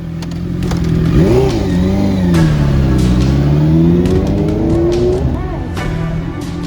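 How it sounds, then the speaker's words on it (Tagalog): A Honda CB650R motorcycle engine roars deep and loud up close, rising and falling in pitch as the throttle is worked, with sustained revving for several seconds. "a deep roaring engine sound"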